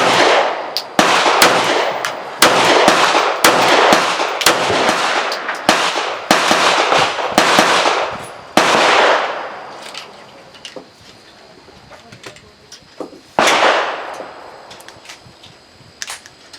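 Palmetto State Armory Dagger 9mm pistol fired in a fast string of sharp, loud shots. A pause follows, then one more crack that rings out alone.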